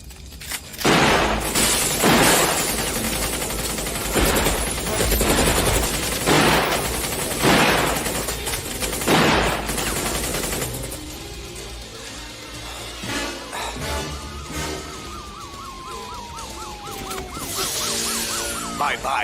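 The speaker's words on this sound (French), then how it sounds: "Inspecteur Sévrance, il est armé d'un fusil mitrailleur." Bursts of automatic machine-gun fire crackle through a 1993 French action film shootout, loud and dense, mixed with booms and shattering impacts, thinning into scattered noise and other effects near the end.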